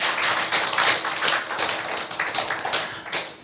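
An audience at a library lecture applauds loudly, dense overlapping claps filling the room in a steady burst that eases slightly toward the end.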